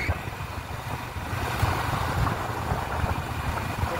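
A motorcycle engine drones steadily on a bike ride between Balimela and Chitrakonda, a continuous close hum with road and wind noise and no pauses.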